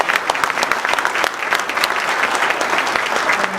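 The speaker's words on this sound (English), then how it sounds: "He deserves a round of applause" Audience applause at a chamber of commerce award banquet, a steady dense clapping from a crowded room that fills the whole stretch at even loudness.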